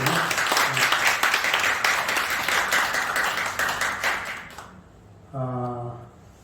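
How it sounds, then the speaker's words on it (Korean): Church congregation clapping during a Sunday worship service, a dense wash of many hands that tapers off near the end, followed by a brief voiced sound. "박수 한번 하시죠"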